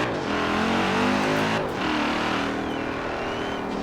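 A car accelerating in the racing game Forza Horizon 4, its engine note climbing steadily in pitch, then briefly dipping at a gear shift before rising again, loud and continuous with no talking.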